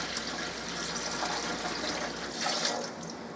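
Water pours steadily into a canner for canning turnips in a home kitchen, a continuous splashing, filling rush heard close up, with no voices.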